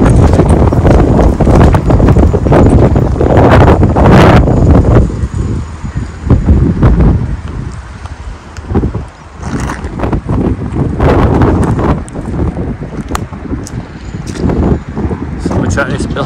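Strong gusty wind buffets the microphone outdoors on the grounds of an old brewery, a loud, continuous low rumble that surges and eases, with brief bursts of handling noise.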